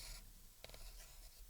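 A pencil scratches across paper in a few short, faint strokes, close and quiet against a low background hum.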